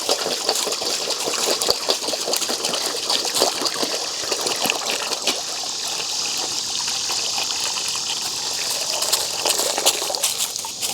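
Fresh water pours steadily into a dog's bowl in a continuous gushing trickle, heard close and fairly loud without a break for about eleven seconds.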